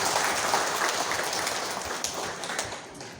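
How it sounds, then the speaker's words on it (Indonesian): Audience applause at an LSM Gempur declaration event in Pemalang attended by the regent, a steady dense wash of clapping that slowly fades over a few seconds, with no voices. "Tepuk tangan untuk kita semuanya"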